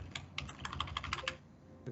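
Several crisp keystrokes on a computer keyboard at a steady, uneven typing rhythm during a computer class, close and moderately loud with no talking.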